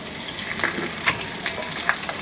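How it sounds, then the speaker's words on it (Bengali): Okra frying in mustard oil in a pan, a steady soft sizzle with a few brief stirring scrapes and clicks at intervals, close and fairly quiet with no talk. "এর মধ্যে আমি ভেন্ডিগুলোকে দিয়ে ভেজে নিব"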